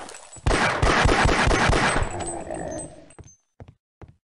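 Rapid video-game gunfire as an alien is shot, a dense burst of automatic shots lasting about two and a half seconds, fading out, followed by a few brief sharp thuds.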